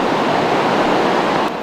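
Water rushes in Heaven and Hell Canyon near Mersin, Turkey, a steady broadband roar heard at moderate level, with no talk.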